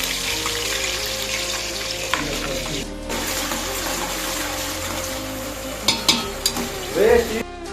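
Diced potatoes, onions, green chillies and curry leaves fry together in a pan for poha, giving a continuous close sizzle with stirring and a few sharp utensil clinks near the end.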